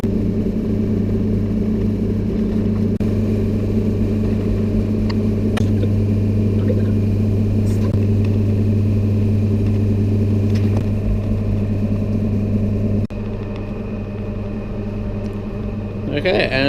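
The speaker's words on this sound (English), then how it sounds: "Whack on the lid, and then let it churn." An ice cream machine churns lemon meringue gelato with a loud, steady motor hum and drone that holds for a long stretch, then drops slightly quieter near the end.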